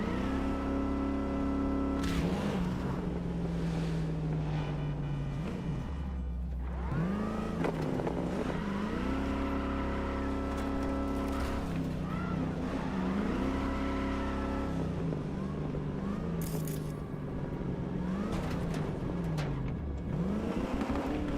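A car engine in Cyberpunk 2077 drones and revs continuously, its pitch sweeping up and down in repeated surges of acceleration, loud and steady throughout with no talk over it.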